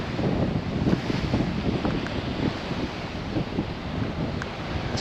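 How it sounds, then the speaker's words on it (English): Wind gusts across an open Mediterranean beach at Corallia on a blustery day, a steady broadband rush with low buffeting and faint surf beneath, constant and close with no speech. "It's quite windy today"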